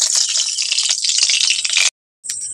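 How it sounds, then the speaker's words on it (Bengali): White cooking oil is poured from a spoon into a wok on a lit stove, a close, hissing liquid stream that stops abruptly, then resumes briefly after a short pause. "এবার ওই কড়ার মধ্যে অল্প করে সাদা তেল দিয়ে দিচ্ছি, 2 থেকে 3 চামচের মতো।"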